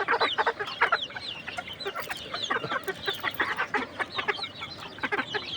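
Desi chickens about three months old clucking in a farm shed, with many overlapping short clucks and chirps in an irregular rhythm, moderately close and steady throughout, with no talking.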